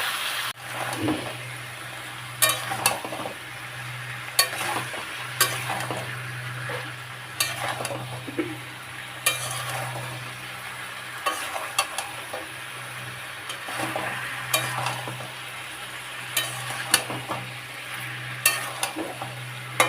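Loitta fish frying with vegetables, including eggplant, in a pan: a steady low sizzle is broken by frequent sharp scrapes and clacks of a stirring utensil, with no voices.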